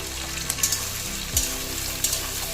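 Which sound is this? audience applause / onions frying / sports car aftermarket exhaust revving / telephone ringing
onions frying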